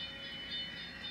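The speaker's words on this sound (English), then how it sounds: "But here comes the train now." Model railroad train running on a home layout, a steady close whirring hum with faint wheel rumble, brief and continuous.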